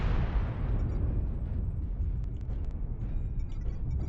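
Artillery strike explosions go off in MechWarrior Online, opening with a heavy blast that decays into a long deep rumble, with faint mechanical beeps and clicks on top and no speech.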